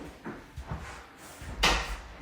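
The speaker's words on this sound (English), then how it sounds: "there's your door here again on the laundry room" A laundry room door in a house swings and thumps shut with a single solid knock, preceded by a few softer creaks and handling taps, all fairly close and with no talking.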